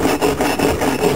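Single-bevel hand saw cutting through frozen wood outdoors in snow, a steady rasping back-and-forth stroke repeating about every fifth of a second, close and loud with no talk.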